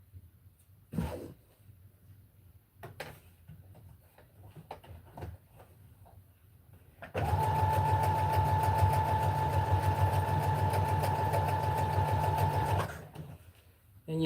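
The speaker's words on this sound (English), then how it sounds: "Pull as you sew." A sewing machine stitches fabric in one steady, loud, whirring run of about six seconds, preceded by quiet handling clicks and rustles of cloth.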